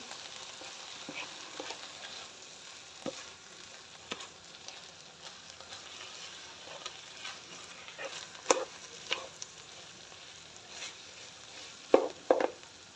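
A spoon scrapes and stirs through a thick chicken cream sandwich filling as cold milk is mixed in, producing soft, irregular clinks and wet swishes at low volume, with a few sharper taps toward the end.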